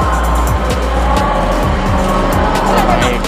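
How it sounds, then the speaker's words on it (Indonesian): Engine and road noise from a Mitsubishi Pajero Sport SUV, a steady loud rumble with tire roar filling the whole stretch, close and continuous. "Ini kendaraan kita, Pajero Sport."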